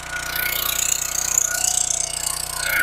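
A log splitter's small gas engine running steadily after one pull with the choke turned off, close and loud, a continuous rapid mechanical chatter that swells slightly toward the end, with no talking.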